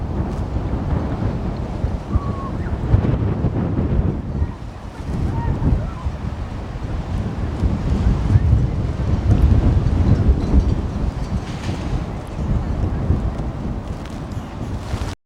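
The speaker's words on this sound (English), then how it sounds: "Very windy." Strong wind gusts buffet the microphone outdoors at an allotment, a loud continuous roar that swells and eases throughout, with no clear talk over it.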